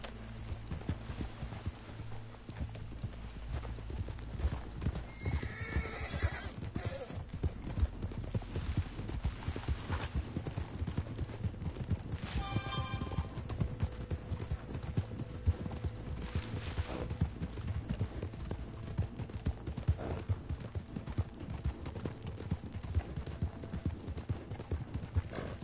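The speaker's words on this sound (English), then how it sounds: "Horse going ape shit. Horse digging into the ground." Horse hooves in the video game Red Dead Redemption 2 glitch into rapid, continuous clip-clop, a dense drumming of hoofbeats that runs steadily throughout.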